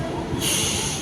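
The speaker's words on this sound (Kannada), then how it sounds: "ಟ್ರೈನ್ ಆ ಕಡೆ ಈ ಕಡೆ ಓಡಾಡ್ತಾನೆ ಇದೆ." A passing train rumbles close by with a brief metallic wheel screech, a loud, short burst of rail noise.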